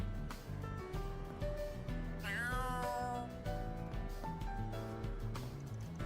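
A cat in the video game Trails through Daybreak II gives one clear, drawn-out meow midway through, heard over steady game background music at a moderate level.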